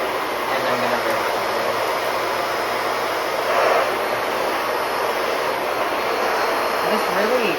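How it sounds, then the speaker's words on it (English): A Miele vacuum cleaner runs steadily close by, its suction producing a constant broad whooshing roar with a fixed high whine, unbroken for the whole stretch. "you can hear the suction being diverted down to the floor"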